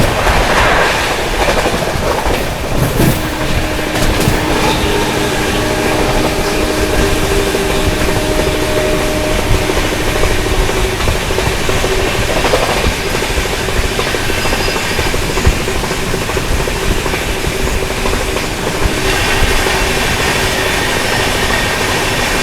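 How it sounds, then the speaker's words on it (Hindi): Heard from aboard a moving Duronto Express as it crosses the Patna Kota Express, a loud continuous rumble and rush of rolling stock with a brief surge of passing noise early on. "दिखाते हैं आप लोगों को पटना कोटा एक्सप्रेस के साथ क्रॉसिंग"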